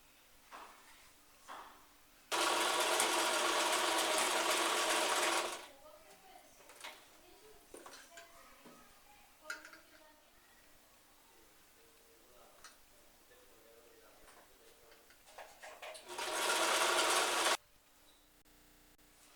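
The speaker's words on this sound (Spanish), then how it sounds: "entramos a la máquina y cosemos todo el contorno" A sewing machine stitches around the edge of pajama fabric in two loud continuous whirring bursts of several seconds each, separated by quieter handling clicks and soft sounds.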